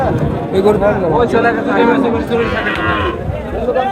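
A dairy cow lows loudly nearby at a cattle market, long drawn-out moos blending with a crowd of people talking around it.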